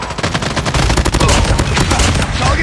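Dense rapid gunfire from Call of Duty Mobile, loud automatic bursts rattling continuously with sharp repeated shots.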